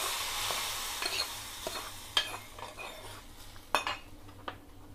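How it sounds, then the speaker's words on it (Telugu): Hot tempering poured into pigeon-pea (kandi) sambar on a switched-off stove, giving a brief sizzle followed by spoon-stirring scrapes and a few sharp metal clinks against the pot, close and clear with no talking. "వేసేస్తున్నా సాంబార్లోకి తిరమాత."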